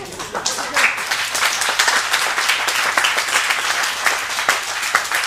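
Audience applause at a press launch, a moderately sized crowd clapping with audible individual hands and occasional sharper claps, fairly close and sustained, with a cheer rising briefly near the start.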